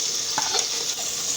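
Chickpea masala with turmeric and salt being roasted in a pan, a bright steady sizzle with a couple of quick stirring scrapes, heard up close and without voices.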